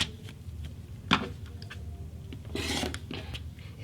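Quilt fabric trimmed along a folded template plastic edge: brief close rasping and cutting sounds with a sharp snip near the middle and a longer scraping cut shortly after.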